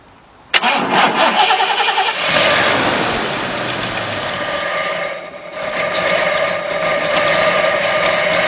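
An 8-cylinder 5.0 vehicle engine with no battery cranks on a 3000-amp jump starter, a sharp click then a loud starter whir that catches and settles into a steady, close idle rumble.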